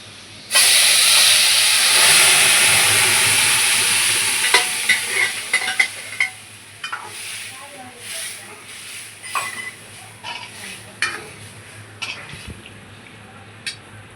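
Spice masala hits a hot pan with a loud burst of sizzling, which gradually settles into a steady fry broken by spoon scrapes and clinks.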